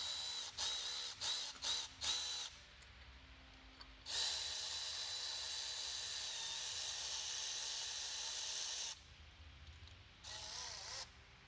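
Bolts on the engine mounts of a turbo Barra setup being snugged up, with quick ratcheting clicks in short bursts, then a long steady buzzing run and another burst near the end, close and fairly faint.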